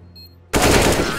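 In a first-person shooter game, an AK rifle suddenly opens up after a quiet moment, firing a loud, close, rapid automatic burst that continues steadily to the end.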